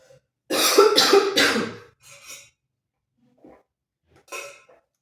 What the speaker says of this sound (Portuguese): vocês vão me ver tossindo bastante ao longo desse vídeo